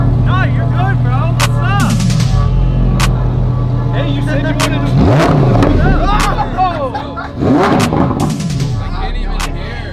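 A custom Lamborghini pulls up with its engine revving loudly in sharp repeated bursts and crackling pops, close by, while a crowd chatters and people talk over it.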